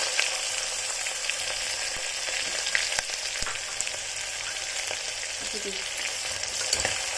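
Onion and green chili frying in a pan for dal tadka, a continuous close sizzle with occasional light stirring clicks, no voices.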